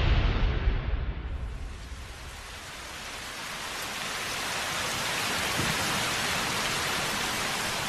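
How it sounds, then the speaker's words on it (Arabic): Steady heavy cold rain pours as a dense, continuous hiss that swells after a brief rumbling start, with no voices. "في تلك الليلة أيضاً كان المطر البارد يهطل."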